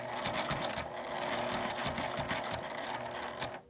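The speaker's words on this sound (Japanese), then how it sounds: "ゆっくりミシンを動かします" A sewing machine runs slowly and steadily while stitching fabric around a circle, giving a close, rapid mechanical whirring and clatter that stops at the end.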